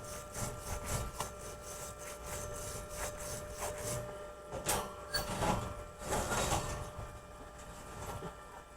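Back-and-forth scraping of a small scrubber over a fresh weld from an ARCCAPTAIN ARC 160 stick welder, a rhythmic rasping of repeated strokes, close and fairly faint, with uneven bursts toward the end.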